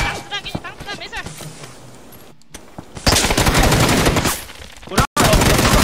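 Gunfire in a shooter video game: rapid automatic bursts crackle loudly through the second half, with sharp cut-offs, after quieter game sounds and voices at the start.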